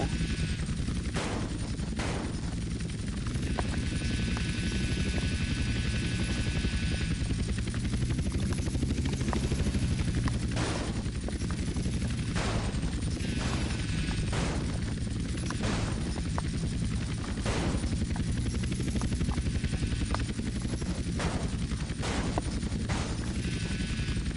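Helicopter in Grand Theft Auto: San Andreas Definitive Edition, a constant loud rotor drone throughout, with repeated sharp bursts like gunfire or impacts cutting through.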